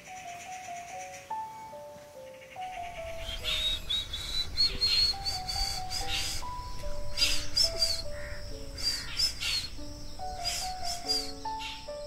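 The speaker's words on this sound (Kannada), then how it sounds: "ಇದು ಬ್ರೈನ್ ಫೀವರ್ ಅಥವಾ ಗಿಡುಗಕ್ಕೋಗಿಲ್ಲ" A common hawk-cuckoo, the brain fever bird, calls out loud in a rainy-season forest, its rising whistled notes repeating again and again against a background of insect buzz and other birdsong.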